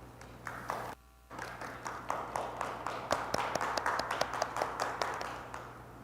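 An audience at a policy forum on age-friendly communities claps to welcome a speaker. The claps come in a steady, distinct rhythm, with a brief pause near the start, and there is no talking.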